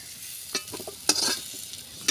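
Potatoes and spices fry in hot oil in a pan, giving a constant crackling sizzle broken by several sharp bursts as the mixture is stirred.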